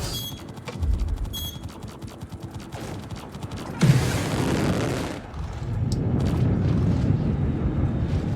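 A missile launching from a ship in the space game Star Citizen: a sudden broadband whoosh bursts in with a low thump, roars for about a second, then settles into a sustained rumbling engine-like hiss amid game mechanisms and clicks.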